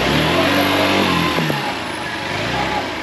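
Hero Xtreme 160R motorcycle wading through water, its engine revving in a close, loud, continuous roar with slight pitch shifts, under a steady wash of churning noise.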